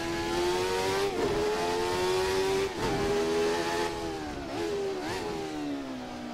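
A Jordan 191 race car in a racing sim accelerates hard, its high-pitched engine note climbing steadily with several quick gear-change dips, loud and continuous with no talk.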